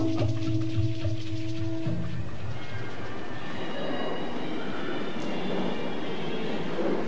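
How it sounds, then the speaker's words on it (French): A Mexico City metro train rumbles through the underground, starting with a low humming drone and shifting into a broad rushing, rattling roar with faint squeals from the wheels, steady and fairly loud throughout, with no talking. "Métro de Mexico."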